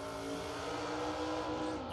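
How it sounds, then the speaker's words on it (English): A drag racing car does a burnout at a strip, its engine roaring steadily and loud with a rising, shifting whine toward the end, heard at a distance amid a busy crowd and voices. "See if we can get a good burnout here."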